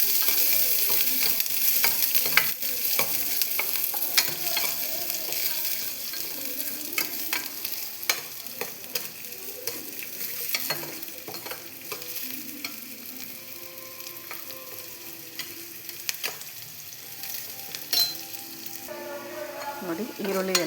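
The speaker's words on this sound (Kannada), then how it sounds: "ನೋಡಿ ಈರುಳ್ಳಿ ಎಲ್ಲ ಫ್ರೈ ಆಗಿದೆ" Onions fry in a pan on a stove, a continuous crackling sizzle with frequent scraping and clinking as a utensil stirs them, steady and close throughout.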